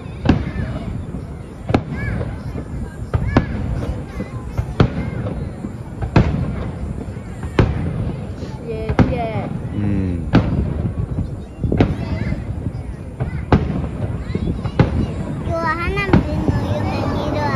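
Fireworks at a baseball stadium display boom repeatedly at irregular intervals, sharp bangs over a steady rumble, while people talk throughout.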